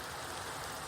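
Steady rain falls in Minecraft, a dense even hiss of drops without pause across the whole moment, moderately quiet and with no voices.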